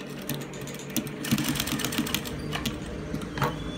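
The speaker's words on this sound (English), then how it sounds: "Then I'm going to stitch." A sewing machine stitches a senator placket, giving a quick, close mechanical rattle with rapid, uneven ticking pulses.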